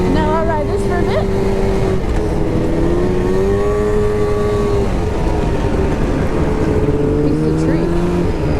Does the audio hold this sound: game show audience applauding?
no